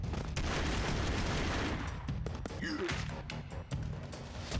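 Gunfire in the side-scrolling video game Broforce: a dense, continuous rattle of rapid shots and crashing impacts, loud and busy throughout.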